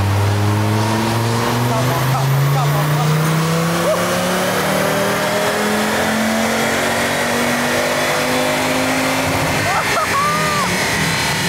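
A high-mileage Italian sports car's engine revs on a test run after a belt repair, its pitch climbing steadily through a long loud pull, with people talking faintly in the background.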